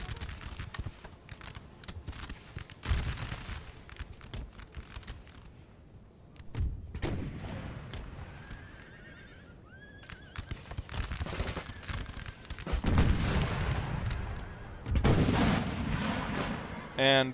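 Cannon artillery fire in Napoleon Total War booms out in several heavy, spaced blasts with rumbling tails, mixed with battle clatter and hoof-like noise between shots.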